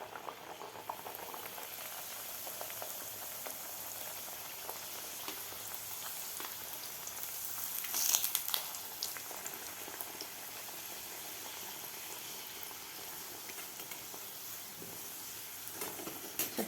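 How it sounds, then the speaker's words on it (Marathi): Sweet jaggery-and-coconut puris deep-frying in hot oil give a steady, fairly quiet bubbling sizzle throughout, with a short louder flare near the middle. "बाकी सुद्धा राहिलेला आपल्याला अशाच प्रकारे तळून घ्यायचे आहेत"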